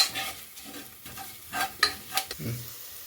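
Kasuri methi, dried fenugreek leaves, fries in a pan for Andhra-style tomato rice, with a soft sizzle and scraping stir strokes that turn into a few sharper clinks and bursts near the end, all fairly quiet with no talk.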